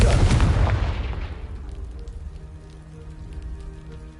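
A Confringo blasting spell in a video game detonates against a pile of debris blocking a stairwell, a loud booming burst up front that rumbles and decays over about a second and a half into a quiet hum.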